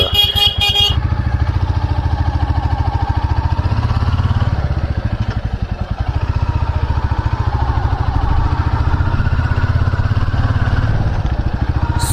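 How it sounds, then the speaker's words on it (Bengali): Royal Enfield Classic 350 Reborn motorcycle in Stealth Black on its first ride, its single-cylinder engine thumping loud and steady close by, with a brief horn-like tone at the start and traffic noise around. "first motor vlog with my Royal Enfield Classic 350 Reborn"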